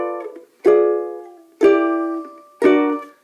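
A ukulele plays a chord walk-down ending on an augmented chord, part of the intro to a song: three strummed chords about a second apart, each ringing out and fading, close and clear.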